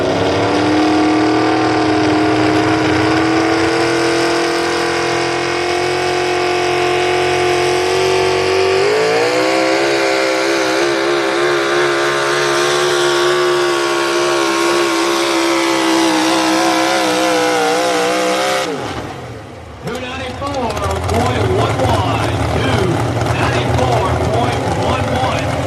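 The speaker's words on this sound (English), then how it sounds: "Leroy Covich 2000 Model 4, the first puller" A loud truck or tractor pull engine, the 2000 Model 4 in the 62 National Sportsman class, roars steadily at a sustained high pitch, climbs in revs partway through, cuts off sharply near the end, then snarls back up.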